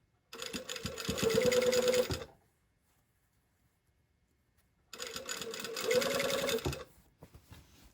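Two bursts of a sewing machine running fast while stitching a yoke seam on a princess-seamed garment, each about two seconds long and loud and close, separated by a silent pause.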